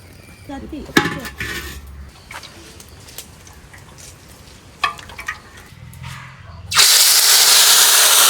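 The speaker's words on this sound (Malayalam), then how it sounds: "ഈ വീഡിയോയിൽ നമ്മൾ എണ്ണയിൽ പൊരിച്ചെടുക്കുകയാണ്" Kerala-style anchovies (natholi) going into hot oil for a full deep fry: clinks of pots and utensils come first, then a loud, steady sizzling hiss bursts in and holds to the end.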